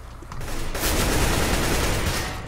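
Sustained burst of gunfire in the game CS:GO, loud and dense, a continuous rattling roar that rises after a brief lead-in and holds steady for a couple of seconds with no voices.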